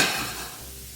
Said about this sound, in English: I'm going to put the onions in the pan